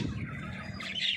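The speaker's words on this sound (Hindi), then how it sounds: "ये देखिए हमारे दो कबूतर, हमारी ये दो कबूतर है और ये हमारे सारे कबूतर है।" Pigeons on a rooftop give a short run of near, moderately loud calls and chirps over a low murmur, with a brighter burst of calling near the end.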